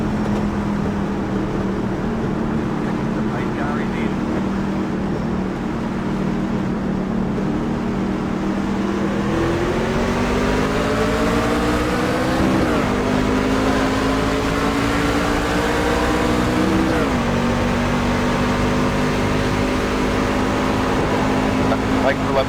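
Race car engine droning steadily in an iRacing C-Class race at Darlington, a constant hum that climbs through several shifts, loud and continuous with speech over it.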